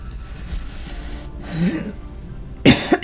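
A person coughs, with a sharp loud burst of coughs near the end following quieter throat sounds.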